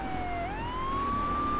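A police siren in the video game GTA III wails steadily, its pitch dipping and then rising into a sustained tone over a constant low engine rumble.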